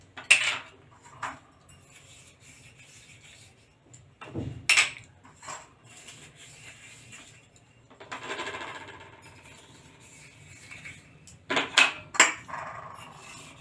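Small aluminium cupcake bowls clink and scrape against one another while being buttered by hand, a few sharp metallic knocks scattered through quieter handling noise, close by.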